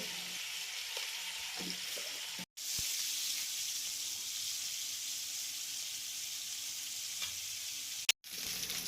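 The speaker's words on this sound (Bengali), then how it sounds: "চিকেনগুলোর উপরে 1 চামচ হলুদ এবং 1 চামচ নুন দিয়ে লাল লাল করে ভেজে নেব।" Chicken pieces sizzle steadily in hot oil after turmeric and salt are added, with a continuous frying hiss and a couple of brief stir-like breaks, no voices.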